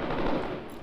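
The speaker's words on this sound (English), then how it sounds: "With all the fucking rockets and gunfire." Gunfire in the military video game ARMA 3: a short, dense burst of rapid machine-gun fire, loud and continuous for under a second with no talk.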